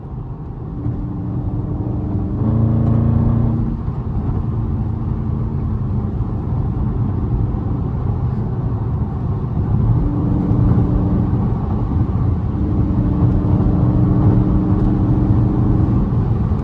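A 500 hp Dodge Challenger Scat Pack cruises on a bumpy highway, heard from inside as a loud, steady low engine drone and road rumble with a couple of brief swells in revs, with no talking.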